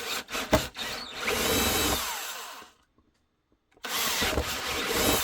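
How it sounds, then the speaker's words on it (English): A power drill whirs in bursts while drilling a holster on a foam press, stuttering at first, then running steadily, stopping into a short silence before spinning up again. "let's drill it, then I will bring it to the bandsaw"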